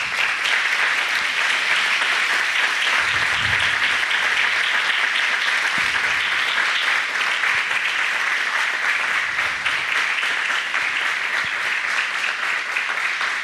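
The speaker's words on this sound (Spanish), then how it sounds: "Dale un aplauso al Señor." A church congregation applauds the Lord during a sermon, dense continuous clapping from many people holding steady and loud for the whole stretch, with a few low thumps underneath.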